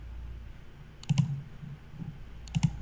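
Two pairs of soft, close computer mouse clicks while working in PowerPoint, spaced over a quiet background.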